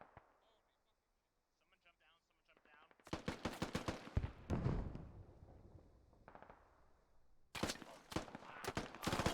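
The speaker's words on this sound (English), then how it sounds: "Oh, fantastic shots from behind, actually." Rapid automatic gunfire and heavy shots in Squad-style infantry combat with U.S. infantry, in loud repeated bursts after a quiet start, with a pause midway and dense fire returning at the end.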